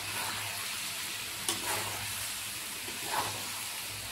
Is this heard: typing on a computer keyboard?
no